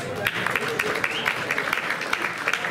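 Audience applause at a brass band concert, a dense, steady patter of many clapping hands filling the room, moderately loud and continuous throughout.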